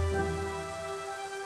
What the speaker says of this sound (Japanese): 奇跡を使ってこの魔物の巣に雨を降らすと、